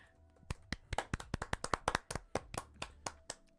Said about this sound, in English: Everybody give a round of applause for her turning 40.